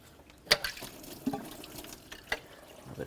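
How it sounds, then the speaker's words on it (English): Coolant drips and splashes from a removed water pump of a 2006-12 Ford Fusion engine, a few scattered close drops against a quiet background. "A bit of coolant coming out of there."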